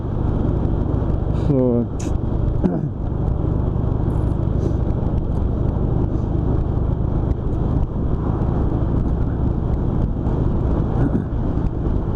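A car driving along a West Coast road in fine weather, with steady loud rumble and wind buffeting across the microphone the whole way. Someone speaks briefly near the start, and the road roar stays constant under and after him.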